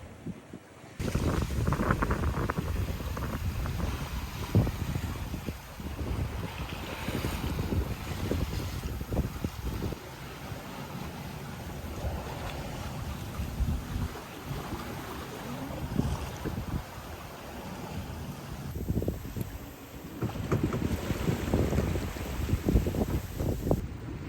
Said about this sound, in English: the wind has shifted a little bit, as you can probably hear with the flapping Genoa